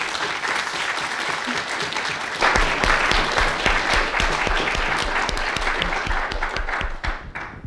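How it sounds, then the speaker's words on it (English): Audience at an academic mathematics meeting bursts into dense applause that swells partway through and holds steady, a full room of clapping with no voices on top. "but let's applaud them in absence."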